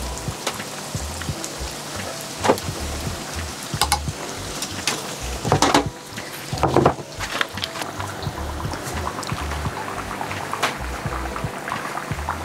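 Sugar doughnuts frying in hot oil, a continuous crackling sizzle with louder bubbling bursts and clatters as the pieces are turned.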